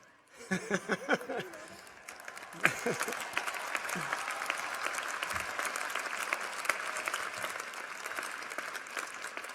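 A commencement crowd at the 2019 University of Washington ceremony bursts into loud, dense applause after a brief spoken line, the clapping swelling quickly and holding steady and full until the end.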